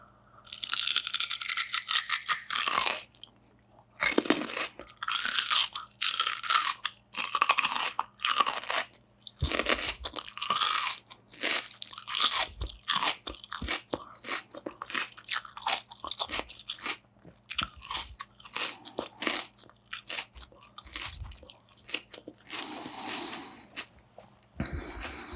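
Loud, crisp crunching bites into raw kohlrabi, followed by wet chewing, repeating in irregular bursts throughout, close and intimate with no talking.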